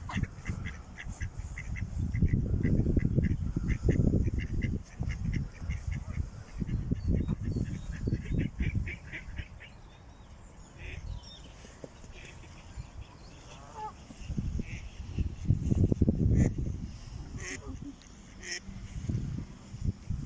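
Ducks quack in repeated loud bursts at a nature reserve pond, with a busier stretch early on and another near the end, while people talk nearby.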